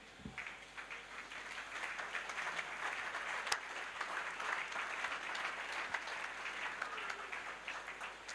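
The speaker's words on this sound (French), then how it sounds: "Yes, clap much louder." Sustained audience applause at a church evangelism crusade, dense steady clapping from a large crowd filling the space throughout, with occasional sharper individual claps standing out.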